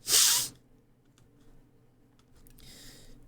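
A single sharp sneeze bursts out loudly at the start, followed by quiet room noise with faint clicks and a soft hiss near the end.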